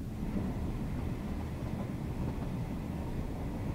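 Steady low rumbling ambience of a moving train carriage in the game Blackwood Crossing, a continuous even drone at moderate level with no voices.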